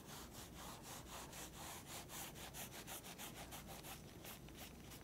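Rapid back-and-forth rubbing of a paper towel over a dry acrylic painting to wipe off chalk lines, a steady scratchy swishing with quick repeated strokes, close and alone.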